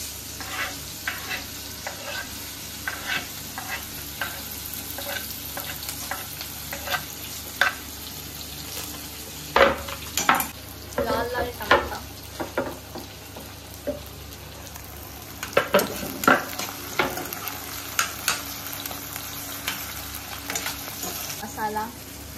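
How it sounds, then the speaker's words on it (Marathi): A pan of whole spices, black and green cardamom, cinnamon and cloves, sizzles steadily with onion while a spoon scrapes and stirs in irregular bursts, loud and close, with no talking. "आता त्याला थोडं स्टर करायचं आहे."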